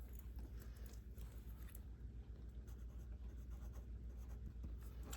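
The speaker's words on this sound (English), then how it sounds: "I don't think I want to write with this light pen." A light-colored pen scratches across paper in soft, continuous strokes. The sound is faint and close, with small clicks and scrapes and no talking.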